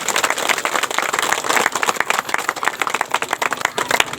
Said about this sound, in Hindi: तो हम की बसंती मैया ले एक बार बेहतरीन से ताली बजा दो